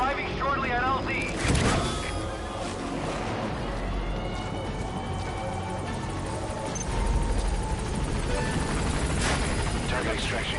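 A helicopter whirs through a continuous, dense mechanical drone in the video game Metal Gear Solid, arriving at a landing zone under a steady wash of rotor noise, with scattered game effects and a voice speaking over it.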